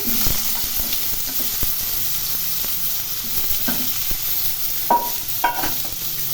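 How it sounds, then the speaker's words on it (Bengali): Long thin-cut potato strips fry in a pan for a Bengali posto curry, giving a continuous close sizzle with occasional sharper pops and stirring scrapes. "এই আলুগুলো একটু ভেজে নেবো ভালো করে।"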